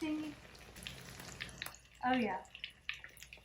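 Chicken patties made with rotisserie chicken fry in a pan, giving a steady sizzle with crackles and pops, while a person speaks briefly over it.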